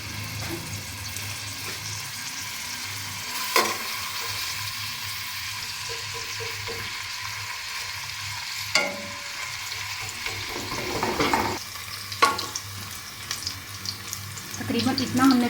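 Onions sizzle in oil in a pan for white pea pulao, a steady crackling hiss broken by occasional stirring clanks and scrapes.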